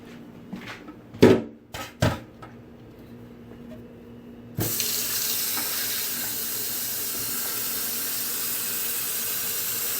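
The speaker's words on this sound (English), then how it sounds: "fill it with water" After a few soft clicks and taps, water starts pouring from a tap into a Keurig K525 coffee maker reservoir in a steady, hissing stream that continues to the end.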